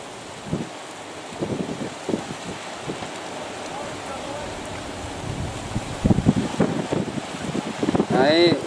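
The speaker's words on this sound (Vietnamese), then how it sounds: "giờ mưa gió tơi bời luôn" Heavy rain and gusting wind batter a boatyard where a fishing boat sits on a slipway, steady hiss with buffeting wind noise on the microphone and a few low thumps.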